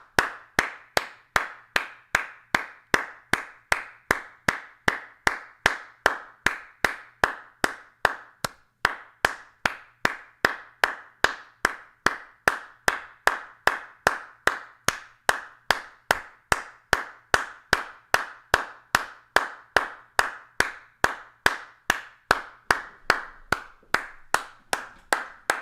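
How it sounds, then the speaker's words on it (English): Steady, fast single-person clapping rather than a crowd, a long unbroken run of sharp evenly spaced claps, close and loud, offered as applause for a band at a live comedy show. "give a big round of applause for those guys"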